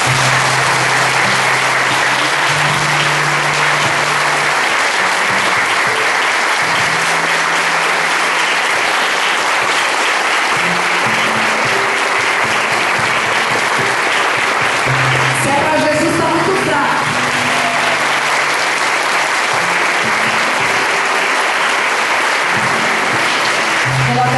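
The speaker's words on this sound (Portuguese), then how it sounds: "Eu peço que você aplauda Jesus." Sustained congregation applause fills a parish church, a dense, steady wash of many hands clapping for the whole stretch, loud and close, with a faint voice surfacing briefly near the middle.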